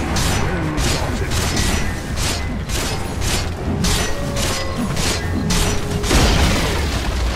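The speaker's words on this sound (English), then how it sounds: "Radiant's bottom tower has fallen." A Dota 2 tower being destroyed in battle, with a rapid run of heavy impacts and crashing booms repeating in a steady rhythm, mixed with mechanical clatter and some voices.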